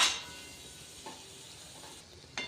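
Hakka noodles being tossed with cooked masala in a pan, a sharp scrape at the start followed by quiet sizzling and a few light stirring knocks, faint and close, no talking.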